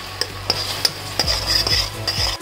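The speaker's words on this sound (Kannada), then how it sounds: "ಇದನ್ನು ಒಂದು ಸ್ವಲ್ಪ ಚೆನ್ನಾಗಿ ಹುರ್ಕೋಬೇಕು." Onion, tomato, ginger and green chilli masala stir-fried in a pan for chole, a steady close sizzle with repeated spoon scrapes and taps against the metal at an uneven rhythm.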